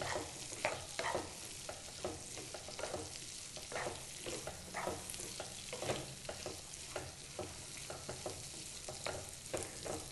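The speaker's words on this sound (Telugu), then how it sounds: "ఆయిల్లో దొండకాయ ముక్కలు ఆయిల్, పసుపు, దొండకాయ ముక్కలకి బాగా పట్టేలాగా కలుపుకోవాలి" Chopped ivy gourd pieces being stirred in hot oil with turmeric, a soft continuous sizzle under repeated rhythmic scrapes and clinks of a spatula against the pan, fairly faint and with no voices.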